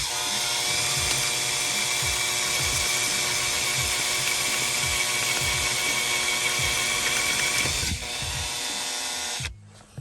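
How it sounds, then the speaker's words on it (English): A power drill whines steadily at high pitch for several seconds boring through a rubber grommet into the trunk of a BMW E46, then bogs slightly and cuts off near the end, close and loud. "there's a grommet right here that we're gonna drill through so we can have access into the trunk"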